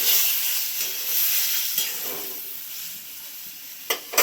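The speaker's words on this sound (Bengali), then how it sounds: "এটা আমি 1 কাপের মতো জল দিলাম।" Water poured into a hot pan for a Bengali fish curry hisses and sizzles steadily, with a couple of short bursts of louder spitting near the end.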